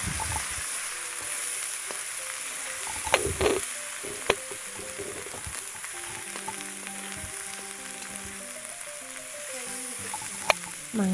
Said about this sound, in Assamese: এতিয়া ইয়াত গুড়া কৰি থোৱা মছলাখিনি দিলোঁ আৰু ধুনীয়াকৈ ভাজি থাকিলোঁ